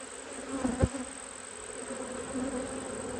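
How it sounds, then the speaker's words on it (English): A honey bee colony buzzes in a steady, close drone from an open hive during a colony split, with the hum holding level throughout and no talking. "we'll probably have to come out and feed these bees"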